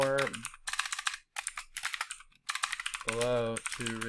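Fast, irregular bursts of keyboard typing, clicking in quick clusters, with a voice speaking between and over the keystrokes.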